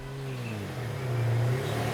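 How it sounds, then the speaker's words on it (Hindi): A car engine runs steadily and rises into a louder rev partway through, a close, sustained mid-low drone with no talking over it. "गाड़ी की आवाज।"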